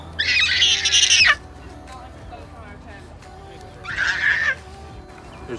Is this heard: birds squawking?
yes